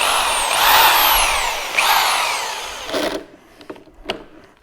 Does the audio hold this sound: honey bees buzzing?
no